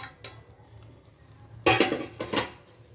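A pot lid lifting off a pot of mutton biryani after ten minutes on a low flame, two quick metallic clatters over a faint low hum, no talk.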